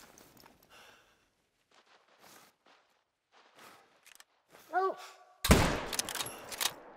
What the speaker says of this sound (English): Okay, that's a shot.